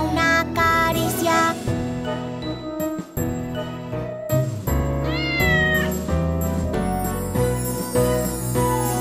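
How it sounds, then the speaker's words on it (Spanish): Cartoon cat meows ring out repeatedly over a bright, jingly children's song with bells and instruments, the cat sounds recurring throughout the music with no talking. "Yo soy un gato pelirrojo y mis ojitos son marrones."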